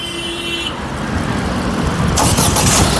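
A 2018 Ford EcoSport Titanium starts on a single crank: a short starter whir, then the engine catches and settles into a loud, steady idle close by.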